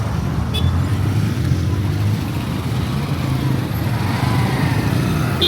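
Steady road traffic rumbles along Nakawa Jinja Road, cars and motorcycles droning together in a continuous, fairly close wash of engine noise.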